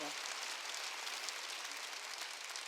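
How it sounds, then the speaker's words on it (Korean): A church congregation applauding during a Korean sermon, a continuous hiss-like wash of many hands clapping, fairly faint and even from start to finish. "박수로 하나님께 영광 돌리라"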